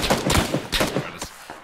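Gunfire in the video game PUBG, a rapid burst of several loud close shots in quick succession, with a couple of further cracks trailing off.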